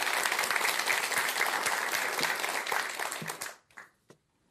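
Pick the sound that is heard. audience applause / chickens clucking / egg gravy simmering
audience applause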